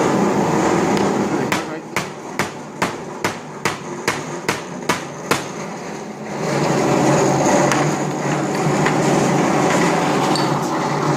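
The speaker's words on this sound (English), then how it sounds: "so I'm going to go ahead and use this hammer." A hammer strikes a plastic car bumper about a dozen times in a quick, even series during a bumper repair, with steady workshop background noise before and after.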